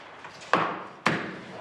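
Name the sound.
hammering on wood and metal bolts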